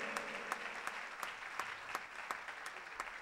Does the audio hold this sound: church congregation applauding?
yes